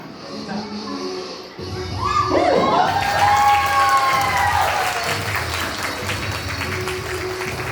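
Guests at a baby shower break into clapping that swells into sustained applause with cheering and children's shouts, while voices rise over the crowd.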